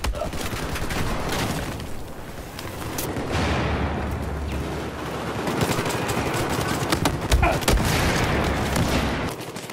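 Rapid bursts of 1911 pistol gunfire in Battlefield 4, loud and close, mixed with explosions and heavy battle noise that continue throughout.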